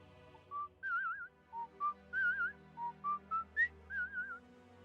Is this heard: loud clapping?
no